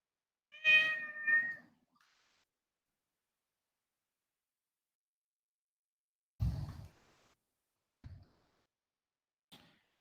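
A house cat gives a close, clear meow, quickly followed by a second shorter one. Long silence follows, broken only by a few faint thumps and clicks, and no one speaks.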